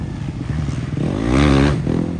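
Dirt bike engines buzzing and revving up and down at close range on a slippery GNCC race track at Talladega, with a rising and falling engine whine and some clatter; no voices.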